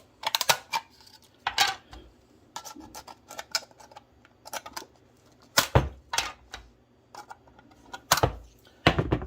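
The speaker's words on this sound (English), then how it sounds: "So we're gonna take our big scissors here. And go ahead and cut" Big scissors snip through a thin oyster tin in a series of sharp, close metallic cuts, each clipped crunch separated by short pauses, with no talking.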